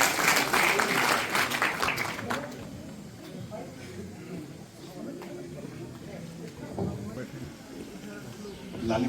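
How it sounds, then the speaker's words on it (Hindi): Loud applause from an audience at the Lali Pahadi festival gathering in Lakhisarai, strongest at the start then fading into a murmur with scattered claps and a voice speaking over the tail. "एक बार जोरदार तालियों के साथ इनका अभिवादन किया जाए।"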